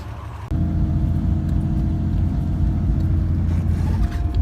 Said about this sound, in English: clearly the Land Cruiser has no problem in the snow